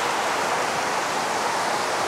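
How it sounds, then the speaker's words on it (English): Heavy rain pours down the stairs of a football stadium in Malaysia, cascading like a waterfall as a loud, continuous hiss and rush of water with no voices over it. "It's pouring. It's like raining harder now."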